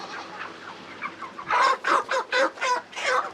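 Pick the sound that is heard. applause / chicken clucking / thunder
chicken clucking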